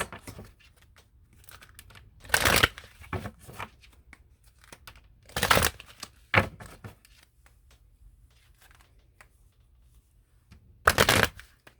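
Oracle cards from a Romance Angels deck being shuffled in several separate riffling bursts, each brief and crisp with quiet pauses between them, close to the microphone and with no talking.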